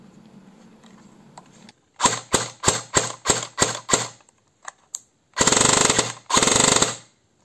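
A Classic TM Mac10 airsoft gun fitted with a LiPo battery and mosfet fires, first a string of about eight sharp semi-auto shots, then two loud, rapid full-auto bursts, close and alone after a faint hum.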